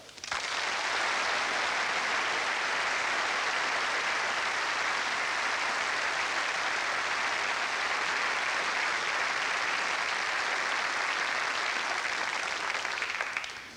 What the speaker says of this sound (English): I hope you can hear the round of applause you're about to get.